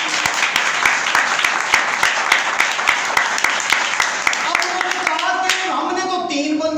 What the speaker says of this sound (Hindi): जोरदार पे तालियां बजाएं